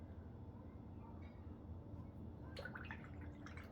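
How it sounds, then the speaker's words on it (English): A watercolor brush is rinsed in a small cup of water, giving soft faint swishes and drips, then a brief clinking tap against the container over low background hum. "Clean the brush."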